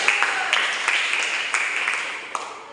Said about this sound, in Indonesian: Oke, tepuk tangan untuk yang